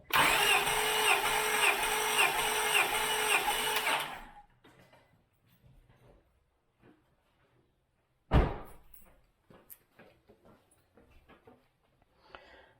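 A 2000 Acura 3.2 TL engine cranks over at wide open throttle during a compression test: a loud, steady, rhythmic churning for about four seconds that then cuts off, leaving quiet and a single thud a few seconds later.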